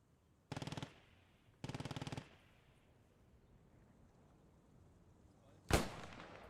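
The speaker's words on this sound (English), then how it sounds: "Eggman, he gets sprayed down then by that MG32." MG32 machine gun in the WWII shooter Post Scriptum, set at Stone 1944, fires two sharp sustained bursts of rapid rounds, then quiet rumble and one loud distant blast near the end.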